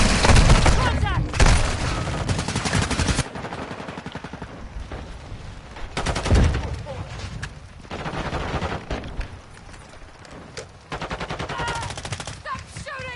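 Heavy gunfire in the video game Modern Warfare 2, with loud bursts of automatic fire and separate shots repeating across the scene, sometimes dense and sometimes sparse, mixed with game sounds.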